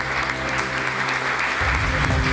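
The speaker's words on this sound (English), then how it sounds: "Can you put another round of applause for both Mayor Hancock and Councilwoman Kanish?" Steady applause from a crowd fills the room at a housing authority's 80th anniversary celebration, dense clapping held loud and unbroken throughout.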